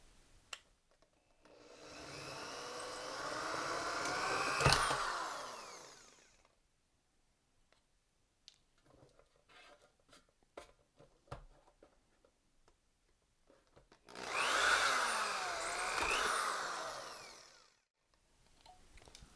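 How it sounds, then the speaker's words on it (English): Two bursts of a power drill with a one-eighth bit whining into metal rivets on a Phoenix CPS-10 power supply, each a few seconds long, separated by quieter handling clicks and taps. "So I'm going to drill out these rivets and open it up"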